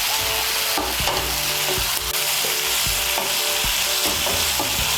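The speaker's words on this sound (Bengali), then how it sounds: "এগুলোকে একটু ভালো করে ভেজে নেব।" Ginger, garlic, green chili and tomato pastes fry in hot oil for chicken bharta, a dense, loud, unbroken sizzle with repeated spatula scrapes and knocks against the pan.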